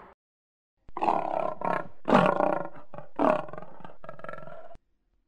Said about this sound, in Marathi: तेव्हा सिंहाने जोरात गर्जना केली